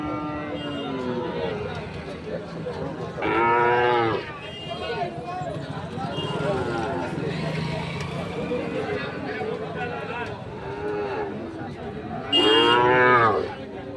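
Sahiwal breed bull calves being fattened low and bellow at a busy livestock market, two loud moos rising near the start and again near the end over steady crowd chatter and bargaining voices.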